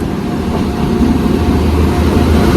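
Steady, loud rumbling of a Jan Shatabdi express train on the Konkan Railway rolling past close by, with a continuous low mechanical drone and rattle throughout.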